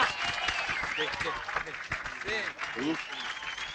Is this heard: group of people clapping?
yes